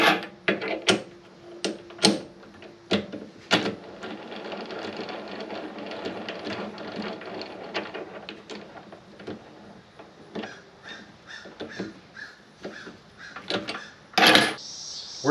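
A Vevor metal lathe faces off a small piece of scrap stock, a whirring mechanical run with rapid ticking and a few sharp clicks near the start and end.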